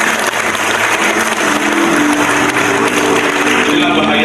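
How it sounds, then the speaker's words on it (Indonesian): Hands clap steadily throughout from an audience at an Islamic sermon, a dense, loud wash of applause with a faint voice mixed in beneath it. "Kita tepuk tangan untuk kita semua."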